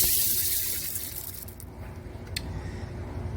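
Hot water runs from a tap into a container in a kitchen sink, a soft steady splashing stream that fades slightly and continues at low level, heard from a short distance.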